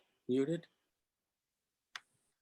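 A single sharp computer mouse click sounds alone during a quiet online committee meeting, preceded by a short burst of talk.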